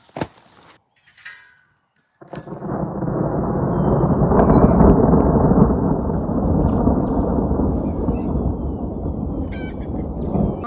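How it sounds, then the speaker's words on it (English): A loud, long roll of thunder from nearby lightning rumbles in after a brief pause and slowly fades over several seconds, with light rain-like noise. "there was some lightning fairly close"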